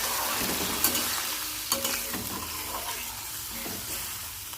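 Spice paste sizzling in oil as water goes into the pan, with a continuous bubbling hiss and a few sharp scraping knocks of a spoon stirring against the pan, with no voices.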